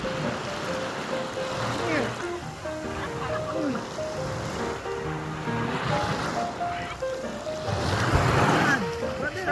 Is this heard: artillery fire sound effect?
no